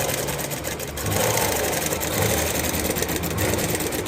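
A sewing machine stitches blouse fabric in a steady, dense mechanical whir with fast rattling pulses, close and continuous throughout.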